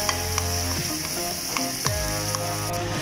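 Cream and onion sizzling and frying steadily in a hot pan for Alfredo pasta with chicken, with a few stirring clicks and spoon taps over the continuous crackle.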